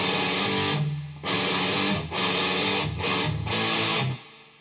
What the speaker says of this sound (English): This is what it sounds like with a quarter on. Still got a good distortion going on it.